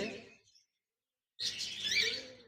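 A pair of cockatiels, an albino red-eye male and a lutino red-eye female, chirping in a cage at a bird shop, a short twittering burst, a pause of silence, then a louder stretch of chirps close by.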